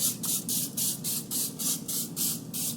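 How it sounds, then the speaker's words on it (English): Cooking oil spray is misted onto raw chicken in a series of about nine short, sharp hissing bursts in an even rhythm, close and clear with no talking. "but I will do a little bit of the spray"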